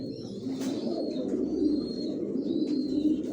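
Young Johnson-line racing pigeons coo continuously in a loft, a dense low warbling chorus close by, with faint higher chirps rising briefly above it.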